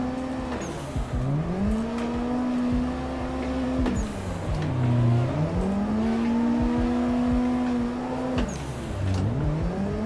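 Simulated car engine in Assetto Corsa while drifting, looping through repeated rev rises and dips with harmonic whine and occasional tire squeal, loud and continuous with no talking.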